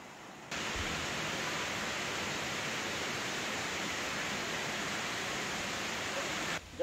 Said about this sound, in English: The river is just like right here.